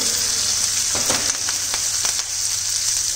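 Cumin seeds, whole red chilies, curry leaves and chopped chili crackle and sizzle in hot oil, a steady close hiss dotted with sharp pops, with no voices.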